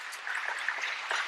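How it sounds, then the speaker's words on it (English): Audience applause for a panel at an enterprise tech event, a steady, moderately loud clatter of many hands clapping continuously throughout, with no talk over it. "everyone, give it up for this team."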